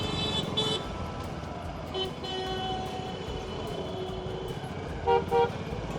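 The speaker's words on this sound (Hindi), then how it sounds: "क्या ही तो ट्रैफिक लग गया भाई यहाँ पे" Busy road traffic jam outside an Allen tuition centre in India, with engines rumbling steadily and car horns tooting in short bursts near the start and a pair of louder honks close by toward the end.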